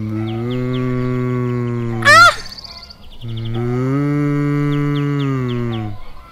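Two long, loud, close moos from a cow, each lasting about two seconds, separated by a short high squeak and a brief pause.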